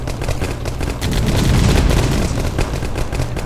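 Gunfire in the video game 9th Company: Roots of Terror at Bagram Airdrome, dense rapid bursts of automatic fire rattling continuously and loud, swelling in the middle, with no talk.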